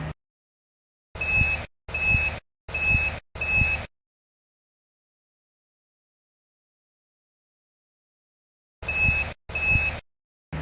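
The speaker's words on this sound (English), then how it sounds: "until the detector on the stand emits a beep" A MINEORO DC2008 directional metal detector sounds a series of four sharp electronic beeps in quick succession, then silence, then another burst of short evenly spaced beeps, clean and close.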